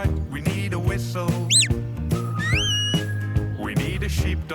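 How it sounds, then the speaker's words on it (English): A shepherd's whistle for rounding up sheep on a farm gives a few short rising and falling tones over a musical backing, with lambs grazing nearby. "We need a whistle."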